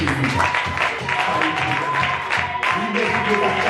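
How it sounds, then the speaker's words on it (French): A church congregation applauds and acclaims in continuous dense clapping and crowd noise, with voices mixed in and no pause across the whole stretch. "Prions, acclamons au nom de Jésus."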